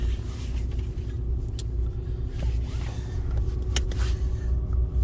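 A 2022 Ram 3500 Mega Cab pickup truck runs quietly on the road, a steady low engine and road rumble heard from inside the cab, even and continuous without revving.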